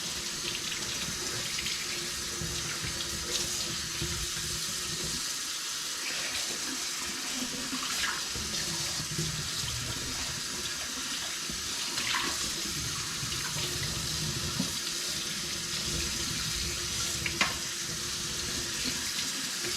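Tap water runs steadily into a sink while hats are rinsed off, a constant close hiss and splash with small splattering bursts throughout and no voices.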